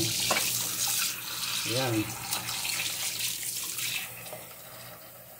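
Tap water runs steadily while raw beef chunks, about two and a half kilos of lean meat for nilaga, are rinsed in a sink. A voice talks briefly near the middle.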